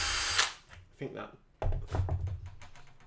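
A battery power drill drives a screw into a model flying wing, heard as short whirring bursts with thunks between them, while someone talks over the work.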